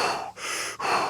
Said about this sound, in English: I want you to get to the fastest breath that you've done all day today